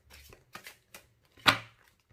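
Tarot cards shuffled by hand in a few soft riffling bursts, spaced apart, with one louder, sharper shuffle near the end, close and otherwise quiet.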